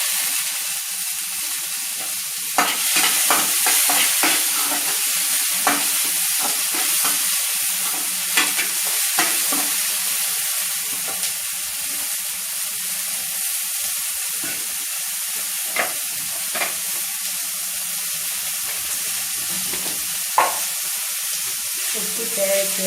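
Onions and tomato for Bombay chutney sizzle steadily in a pan, a constant bright frying hiss throughout, punctuated by scattered scrapes and taps of a stirring spoon, close and loud with no talking.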